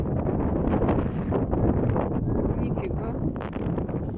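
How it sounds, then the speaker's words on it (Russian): Strong, gusting wind sweeps across an open field in a storm, bending a plum tree, roaring steadily and loud near the microphone with a faint whistle, while someone speaks briefly over it. "Солнце вылезло и ветер поднялся."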